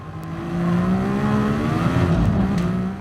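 An F1500T-A race car on soft racing tyres roars loudly and continuously in Gran Turismo Sport, its engine pitch rising and shifting as it drives.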